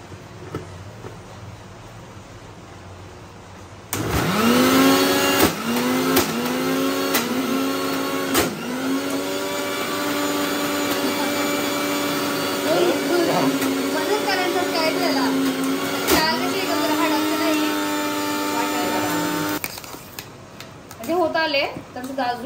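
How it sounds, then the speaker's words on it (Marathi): A mixer grinder whirs loudly and steadily as it grinds medu vada batter of soaked lentils with a little added water. The motor starts abruptly, runs for about fifteen seconds with a strained, wavering whine, then stops. "परत एकदा मस्त मिक्सर लावून घ्यायचं"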